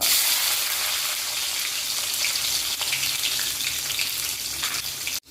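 Sliced garlic cloves frying in hot oil with mustard seeds for a bilimbi (irumban puli) pickle, giving a loud, steady, close crackling sizzle that runs unbroken for several seconds before cutting off abruptly.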